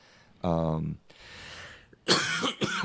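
A single throaty cough bursts out, followed by a breathy exhale and then a rougher, noisier cough or throat-clearing, close to the listener.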